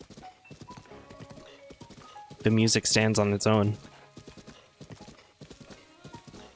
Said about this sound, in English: as you're riding your horse through the rain up a mountain